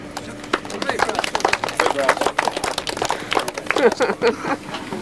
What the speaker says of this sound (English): you should all give yourself a round of applause, so please do